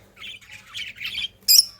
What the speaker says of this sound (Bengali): আমি আমার পাখিগুলোকে খাঁচায় নিয়ে নিয়েছি